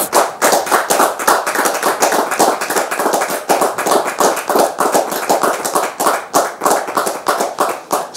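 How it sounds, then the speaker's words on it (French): Studio audience on a French talk show claps in a brisk, rhythmic cadence, close and loud, individual hand claps audible as a steady stream of sharp slaps with no talking. "Merci de la recevoir sous vos applaudissements"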